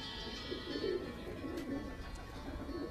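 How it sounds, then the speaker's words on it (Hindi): Record-holder racing pigeons coo from a rooftop loft, low rolling calls repeating in a soft continuous murmur over steady background noise. "आप देखिए ये कबूतर रिकॉर्ड होल्डर कबूतर है"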